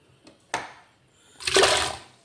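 Tapioca pieces are dropped into water in a copper pot seasoned with salt and turmeric. A brief splash comes first, then a second, longer wash of sloshing water as the rest goes in.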